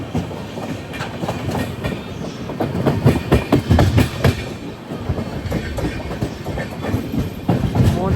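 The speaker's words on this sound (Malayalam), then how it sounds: "മൂന്നാം നമ്പർ പ്ലാറ്റ്ഫോമിലേക്കാണ് വണ്ടി വരുന്നത്." An express train from Mangaluru rolling into platform three, heard up close with rhythmic clickety-clack of wheels over rail joints rising and falling, no talking.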